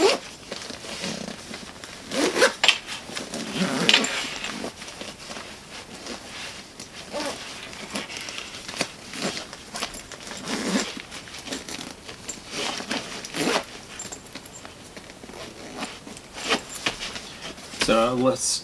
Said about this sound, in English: Now let's go ahead and compress this bag down.